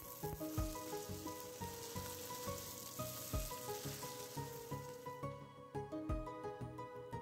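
Mashed potatoes sizzle and fry in a pan as they are stirred together with the onions, with a steady crackle and soft rhythmic scraping and squishing from the mixing.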